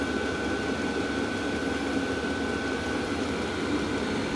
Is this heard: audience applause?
no